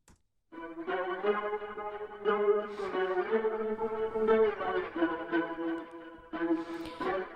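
An electric guitar plays a run of sustained chords and notes through tremolo, flanger and chorus effects, thick with warbling, swirling modulation and echo. Loud, close, and purely instrumental.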